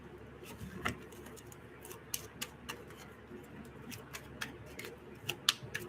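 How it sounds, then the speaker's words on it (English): Tarot cards are shuffled nearby, giving irregular light snaps, flicks and papery patters over a low, quiet background, with a few sharper clicks clustered toward the end. "I'm being called to shuffle again."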